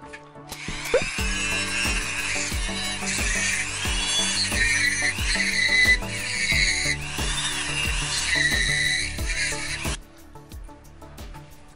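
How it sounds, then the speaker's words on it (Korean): A rotary engraver smooths the surface of a mini 4WD wheel clamped in a jig, giving a continuous high-pitched whining drone for about nine seconds that wavers slightly as it cuts, close and loud, then stops. "그 다음에 조각기를 사용해서 시구웍스 지그에 휠을 이렇게 물려주신 다음에 표면을 다듬는 작업을 진행하겠습니다"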